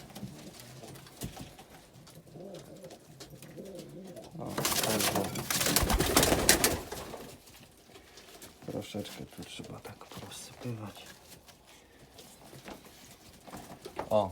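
Pigeons in a pigeon loft coo softly and shuffle nearby, with a louder burst of wing flapping partway through and someone talking quietly at times.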